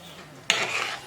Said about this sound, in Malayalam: ഏത്തപ്പഴം ചേർത്ത് ഇളക്കിയ ശേഷം ഇതിലേക്ക് മഞ്ഞൾപ്പൊടിയും മുളക് പൊടിയും ചേർത്തിട്ട് നല്ലതുപോലെ ഇതൊന്ന് മിക്സ് ചെയ്ത് കൊടുക്കാം